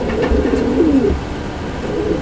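A white-headed, red-eyed male pigeon coos in a low, rolling, repeated call, close and clear against a faint background hum.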